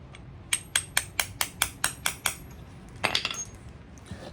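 A hammer strikes metal nine times in a steady, even rhythm while knocking out a pilot bearing, sharp ringing taps close by, followed by a brief scraping clatter.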